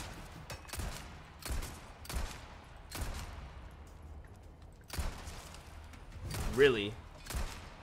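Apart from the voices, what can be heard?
pistol gunfire in a video game (Resident Evil Separate Ways)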